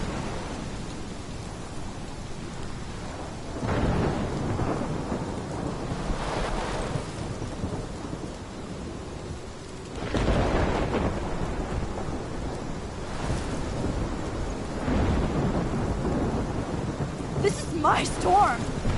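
Thunderstorm in the video game Life is Strange Remastered: loud, rolling thunder crashes again and again over a steady wash of heavy rain, filling the scene with no voices.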